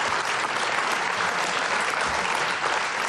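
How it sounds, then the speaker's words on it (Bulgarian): Dense studio audience applause on a game show, steady and fairly loud throughout, with no voices on top. "Да, точно 48 години и силни аплодисменти за Марти."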